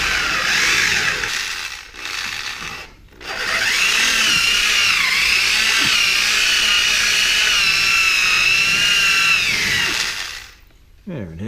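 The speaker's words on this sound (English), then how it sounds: "Drill out some screws here." A power drill drills out screws during a Hyundai Accent front suspension rebuild, whining steadily for several seconds, pausing briefly twice at the start and trailing off at the end, close and loud.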